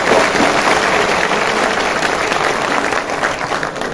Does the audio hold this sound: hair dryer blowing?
no